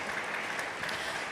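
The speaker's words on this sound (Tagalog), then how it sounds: "Isang malakas na palakpak para sa ating mahal na Panginoon." A church congregation claps for the Lord in a dense, continuous burst of applause that is fairly distant and brief, with no voices over it.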